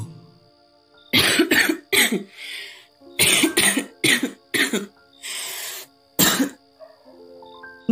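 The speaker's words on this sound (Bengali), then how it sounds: "সামান্য কেশে উঠে বলল" A close series of coughs and throat clearing, several harsh bursts with short gaps, followed by a softer breathy one, over a faint musical hum.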